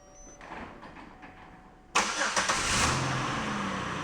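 A car engine cranks and catches through a remote start system, the starter whirring briefly before the motor settles into a steady idle, close by and alone after a quiet lead-in.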